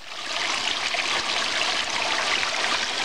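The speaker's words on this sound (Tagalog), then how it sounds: "Buhay po itong sapa na to, mga ka-UTV." A small farm creek flows with a steady, soft, airy rush of running water, continuous and close, with no voices.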